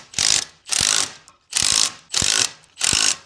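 Ratchet wrench tightening a wheel during a boat trailer drum-to-disc brake conversion, five quick bursts of close, sharp clicking, each about half a second long, separated by short pauses.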